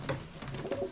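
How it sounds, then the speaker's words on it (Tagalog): A pet pigeon kept in Canada gives a couple of soft, low coos close by over a quiet background. "Oo, nadidinig niyo mga boss. Ito yung Kalapate ko nandito."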